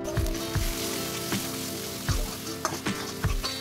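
Ground spices with salt and chili powder are fried in oil for bamboo chicken biryani, a soft continuous sizzle with a low hum beneath and regular knocks and scrapes of stirring.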